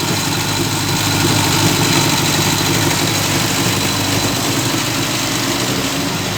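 A Skoda Felicia 1.3 engine idles steadily up close, a constant low rumbling hum with no speech over it, the revs dropping slightly as it warms up.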